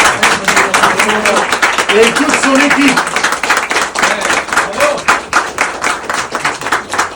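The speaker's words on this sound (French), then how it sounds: "Alors j'aimerais qu'on applaudisse Tolu déjà." Diners in a restaurant applaud the chef at an evening gathering, steady clapping running through the stretch while someone speaks over it.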